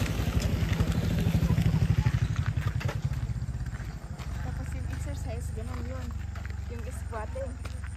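A motorcycle goes by on a street at night, its rapid engine pulses loud and close at first, then fading as it passes, while people talk nearby.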